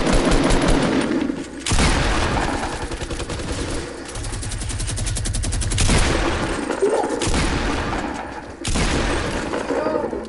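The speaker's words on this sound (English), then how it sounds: "The man pulled out a minigun" Sustained minigun fire in an online shooter game, loud, dense rapid bursts that pause briefly and restart several times, with a few booms and faint talk mixed in.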